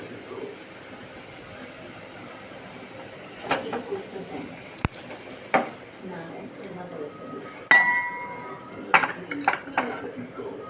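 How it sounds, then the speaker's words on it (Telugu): Sorrel leaf sour curry being mashed in a pot gives soft thuds and metallic clinks of a utensil against the pot, irregular and close, with a voice talking at times. "వేసుకొని బాగా మెత్తగా వెనుపుకోవాలి."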